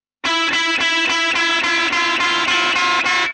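Electric guitar with distortion plays a slow riff, its sustained notes each bent gradually upward into a slight clash; about ten steady, evenly spaced notes ring loud and close with no talk.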